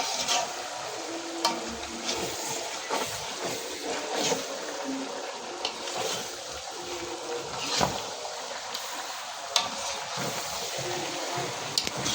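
Meat fries in oil in a large pot in a shared mess kitchen cooking over gas and firewood, giving a moderate, steady crackling sizzle with scattered louder pops and stirring clatter.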